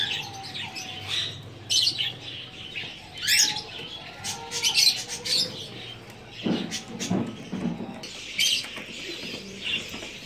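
American fantail pigeons gather where seed has been scattered. Soft coos mix with intermittent chirps and squawks of other birds, faint and scattered over a quiet outdoor background.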